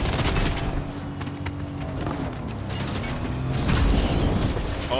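Fortnite battle royale firefight with rapid bursts of gunfire and clanking mechanical game sounds, moderately loud and steady throughout, swelling toward the end, with no voices.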